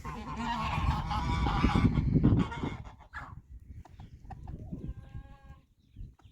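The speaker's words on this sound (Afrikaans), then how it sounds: "Die ganse se naam is Griet en Gertjie" Geese honking loudly on a farm in Namibia, a dense overlapping chorus for the first two seconds, then quieter scattered calls with other farm birds faintly in the background.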